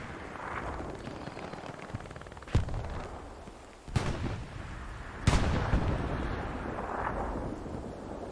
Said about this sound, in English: Let's have a little look at IR's artillery.